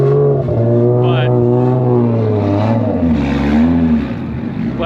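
A Lexus IS300 drift car revs loudly on the track at a budget drift event, its engine holding a steady, droning note that rises and falls in pitch, with voices talking over it.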